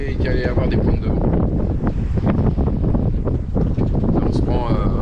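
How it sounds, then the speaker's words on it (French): Strong wind gusts buffet a sailboat running under genoa alone, loud rushing roar and microphone wind noise throughout, with water sloshing and voices talking beneath. "J'étais sûr que qu'il allait y avoir des pointes de vent."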